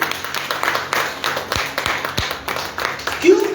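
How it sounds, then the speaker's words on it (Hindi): Congregation clapping at a Resurrection Sunday church service, a rhythmic patter of hands with a few louder distinct claps, mixed with murmuring voices in a reverberant room. "इसके लिए ताली हो यीशु मसीह को"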